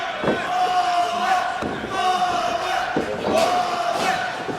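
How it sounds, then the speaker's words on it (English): Wrestling crowd in a Chicago Ridge venue chanting "one more time" in rhythmic bursts, a loud roar of many voices filling the room with thuds and slams from the ring cutting through. "this savvy Chicago Ridge crowd saying one more time"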